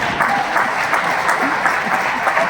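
Theatre audience applauding at an awards show on the SNG stage, a steady dense wash of clapping filling the room without pause, heard at moderate distance with no talk over it.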